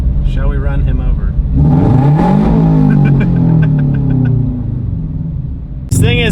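A widebody Subaru BRZ roars as its engine revs loudly and climbs in pitch, then settles back to a rumbling idle. Voices are heard faintly around the engine noise.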